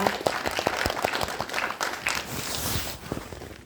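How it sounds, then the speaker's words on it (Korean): A crowd at a Gangnam district council event gives a dense, continuous round of applause, loud and close, with scattered voices mixed into the clapping. "큰 박수 부탁드립니다"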